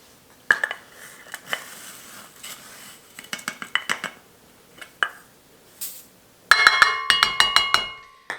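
Measuring cups clinking and rattling while dried parsley is measured in a home kitchen, scattered metallic taps building into a dense, bright jangle of nested cups near the end, close up with no talk.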